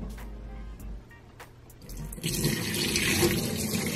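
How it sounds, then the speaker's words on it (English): A tap runs water for rinsing a film developing tank during home color film processing; it starts with a few faint knocks, then a steady splashing stream. "I'm just gonna use running water."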